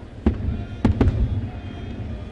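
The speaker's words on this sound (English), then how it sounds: "Got a pretty good view of the fireworks." Fireworks burst over a baseball stadium during a game, three sharp booming reports, the second and third close together, echoing against steady crowd murmur.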